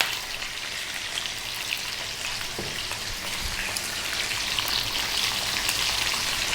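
Chicken wings seasoned with salt and pepper frying in a pan over lively heat, a dense, steady sizzle with crackling pops throughout and no voices.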